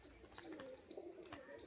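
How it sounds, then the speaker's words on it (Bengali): A male Biscuit Turibaz pigeon coos during its display, soft low warbling calls mixed with faint chirps, quiet and close in a brief burst. "সুন্দর আওয়াজ করে বাজি করলো, ঠিক আছে, দেখে নিলেন পায়রাটা"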